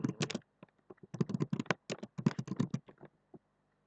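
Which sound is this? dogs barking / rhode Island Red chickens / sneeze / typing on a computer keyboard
typing on a computer keyboard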